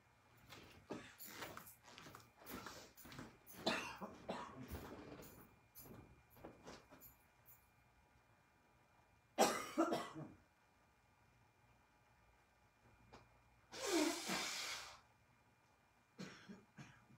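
A dry throat produces several harsh coughs and throat clearings: a cluster of bursts early on, then a sharp cough and a longer raspy cough later, with quiet pauses between them.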